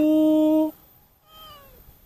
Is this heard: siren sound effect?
no